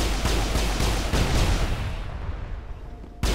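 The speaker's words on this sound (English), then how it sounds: "You have to sit here and shoot them." Gunfire in the video game Mass Effect: a rapid run of loud, close weapon shots and explosive bursts that stops abruptly, leaving near silence before one final sharp blast.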